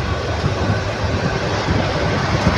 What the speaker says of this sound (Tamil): ட்ரெயின் வேக எடுத்துருச்சுங்க பார்த்து பாருங்க,